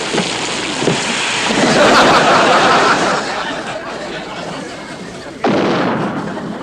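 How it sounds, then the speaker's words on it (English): An artillery shell lands in a near miss on a beach, a loud booming blast followed by a long rolling rumble, then a second sharp burst near the end. "Skip, that was a real Jap shell."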